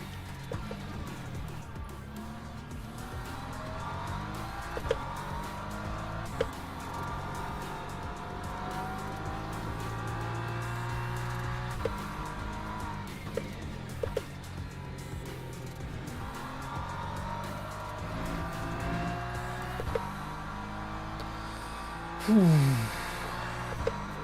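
Race cars in the Le Mans Ultimate sim game, a Ferrari chasing close behind, with a continuous engine drone rising and falling through gear changes, occasional tire squeal and a brief sharp scrape near the end.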